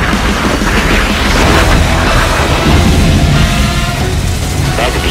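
Weapons on an Indian Air Force Prachand attack helicopter fire in a loud, dense barrage of booms and bursts that continues without pause.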